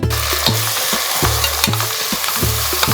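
Green chillies and onion stir-fried in ghee and coconut oil for a Ramadan nombu kanji, with a steady close sizzle and regular scraping strokes of a spoon against the pan roughly every half second, no talk.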